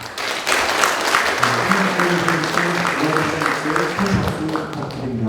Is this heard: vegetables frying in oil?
no